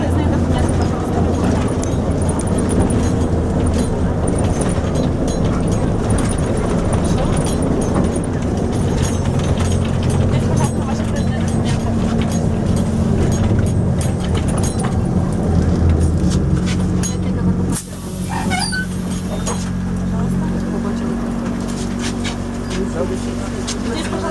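Interior of a moving trolleybus in Bila Tserkva: a steady low rumble and drone of the vehicle runs throughout, with people talking over it and a brief drop in the noise near the end.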